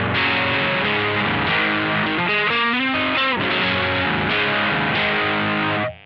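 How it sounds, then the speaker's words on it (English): Heavily distorted electric guitar from a Caline Lorcan preamp pedal driving a Hotone British Invasion AC30-style head, played direct with no cab: sustained crunchy chords and a short bending riff, loud and continuous before cutting off at the end. "it just shows it does work as a distortion pedal and as a delay pedal"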